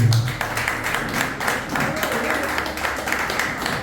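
A church congregation claps steadily through a sermon service, a dense continuous patter of hands with voices mixed in.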